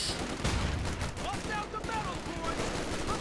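Machine-gun fire in a Company of Heroes 2 match, with rapid overlapping bursts forming a dense, continuous crackle of battle, while a commentator talks over it.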